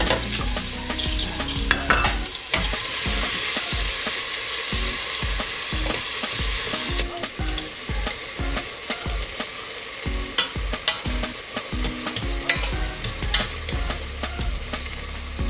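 Chopped onion fries in strained olive oil, a steady sizzle with frequent stirring scrapes and light clinks of a utensil against the pan, close and continuous throughout, no talk, while cooking minced meat with green beans.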